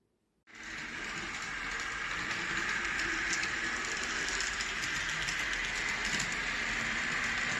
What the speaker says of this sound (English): I'm testing out the left loop module, operating 3 streetcars